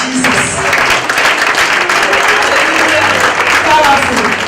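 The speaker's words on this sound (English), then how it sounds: "If you are blessed, you can clap better for Jesus." A church congregation claps and applauds together during a worship service, a steady broad wash of hands across the whole stretch with voices mixed in.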